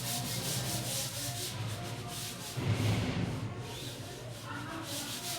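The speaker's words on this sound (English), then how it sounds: "By the time I'll rub the board," An eraser rubs a teaching board clean in a chemistry lesson, giving continuous scrubbing strokes that swell briefly in the middle, with no talk.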